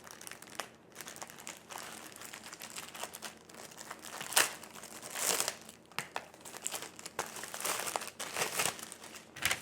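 Plastic packaging around a tote bag crinkles and crackles as it is opened, a steady run of close crumpling with sharper rustling bursts throughout.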